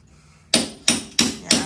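A hammer strikes four times in a steady rhythm, each blow a sharp, loud, close impact ringing briefly, with faint background quiet before the first hit.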